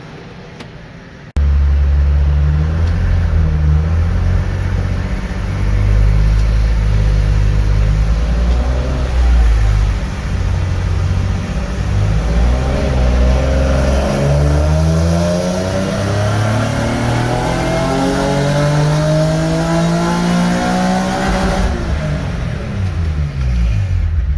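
A Nissan 370Z convertible revs on a dyno during a tune, the engine roaring loud and close as it sweeps steadily up through the rev range for a long pull, then easing off near the end.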